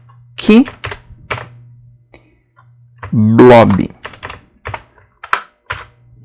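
Computer keyboard keys clatter in short bursts and single clicks, with a louder flurry in the middle, under a faint steady hum while someone speaks in between.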